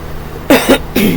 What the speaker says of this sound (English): I know I'm coughing a lot